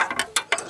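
A ratchet wrench clicks in several quick bursts of pawl ticks while slackening a bolt on a Ford EcoBoost 1.0 engine during sump removal, close and crisp with short pauses between strokes.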